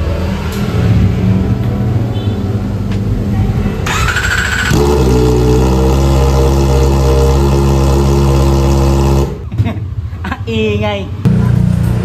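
A Kawasaki Ninja ZX-4RR four-cylinder engine revs with no muffler fitted, the cut exhaust blaring loud and raw, settling into a steady high-pitched idle drone before sharp throttle blips near the end.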